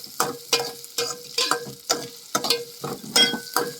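Green chillies, onion and curry leaves frying in a pan, with a sharp sizzle that bursts up about every half second, giving a steady rhythmic stirring pattern, close and fairly loud with no talk.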